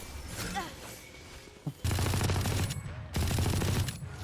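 Sustained automatic gunfire in the tactical shooter game Valorant, two long loud bursts of rapid shots separated by a brief pause, with a few faint voices before them.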